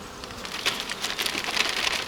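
Agitated honeybees buzzing around their hive, a faint, close swarm of overlapping insect whines rising and falling over about two seconds.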